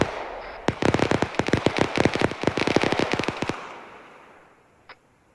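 Rapid burst of sharp, loud gunfire-like cracks and blasts in Arma 3 co-op combat, about three seconds of dense repeated reports followed by fading rumble and a faint late pop; no grenade blast stands out distinctly.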